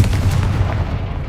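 A Confringo fire spell blast in Hogwarts Legacy, a dense booming burst with heavy low rumble that stays loud and steady for just over a second.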